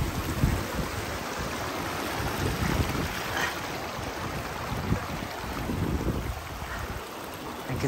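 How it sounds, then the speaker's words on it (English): A small river flowing during a mountain trek near Surpo Monastery, a steady broadband rush of water close by with wind buffeting the microphone throughout. "Okay, I have to cross the small river."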